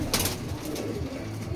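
Desi pigeons in a loft in Howrah, Liluah, coo softly in low repeated murmurs under a steady background hiss, close by, with no talk.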